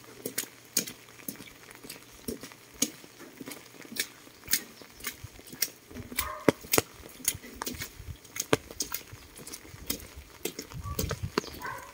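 Rain falling on a cold, wet day in a deserted spot, heard as quiet, irregular pattering taps and drips over a low background hum, with no voices.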